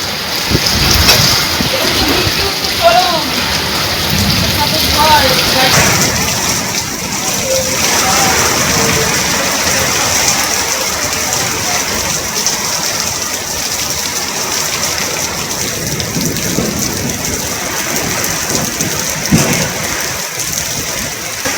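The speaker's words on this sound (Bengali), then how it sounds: "তবে দুর্গাপুরে বেশ ঝোড়ো হওয়ার সঙ্গে বৃষ্টি লক্ষিত হচ্ছে" Stormy rain with gusty wind pours steadily and loudly in Durgapur, a continuous dense wash of noise with a faint engine-like rumble beneath.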